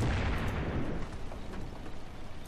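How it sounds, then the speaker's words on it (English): Artillery shells fired by PIAT commandos onto a Pioneer in a Company of Heroes mod match, a dense rumbling barrage of blasts that is loudest at the start and settles into a continuous roar. "Piat commandos firing all their artillery shells on this Pioneer."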